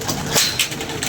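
Pigeons coo softly in a brief, close burst, a couple of low throaty calls under a rustle of nearby movement and background noise.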